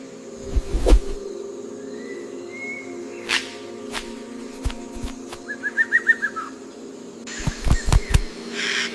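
A male superb bird of paradise in the rainforest gives sharp whip-like snaps and a brief rapid run of buzzy clicking notes, spaced apart over a quiet, humming background with no talk.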